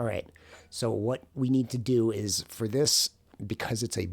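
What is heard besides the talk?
None of the usual background noises is heard.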